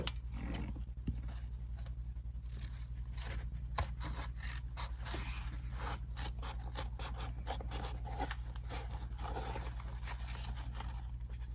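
Scissors trim the edges of a sewn fabric lining pocket with a slip pocket for a handbag, giving a run of soft repeated snips and rasping cuts over a steady low hum, close up and fairly quiet, with no talking.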